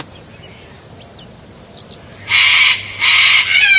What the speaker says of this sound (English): It sounded like the screech of the black cockatoo.